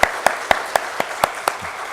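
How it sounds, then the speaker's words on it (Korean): A church congregation at a Sunday service claps in a steady, even rhythm to welcome two young newcomers, with about seven sharp, evenly spaced claps standing out over faint room noise. "우리 크게 박수로 환영하겠습니다."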